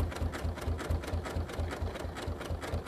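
A sewing machine stitches decorative couching on a quilt, its needle thumping in a fast, even rhythm of about four beats per second, close and steady throughout.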